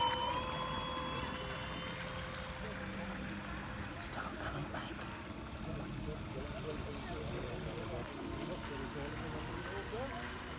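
A Veron Fairy Huntsman RC boat running on a 4S battery cruises slowly across the water. Its steady electric whine carries on without a break under wind and water noise, at a moderate level throughout.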